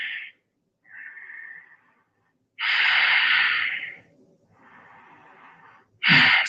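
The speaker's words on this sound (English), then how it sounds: "3 deep breaths" Deep, slow breaths during a relaxation exercise with hands resting on the knees, drawn in and let out in several long airy waves separated by short pauses, close and fairly loud, with a sharp final exhale.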